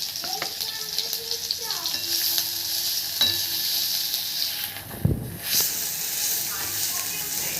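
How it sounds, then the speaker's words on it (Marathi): Onions, chillies, capsicum and garlic-ginger paste fried in hot oil, with a continuous bright sizzle and hiss, occasional stirring scrapes and a clunk, close up with faint voices in the background. "तेल गरम झाल्यानंतर त्याच्यामध्ये कांदे, मिरची आणि शिमला मिरची असेल तर ती पण टाकावी आणि लसूण आणि अद्रकचं पेस्ट टाकावं"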